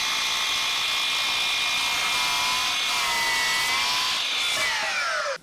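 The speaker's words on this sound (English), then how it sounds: "let's make some 45-degree bevels" A Milwaukee M18 Fuel 12-inch cordless miter saw making a 45-degree bevel cut, its high steady motor whine sustained loud and close for several seconds before winding down sharply at the end.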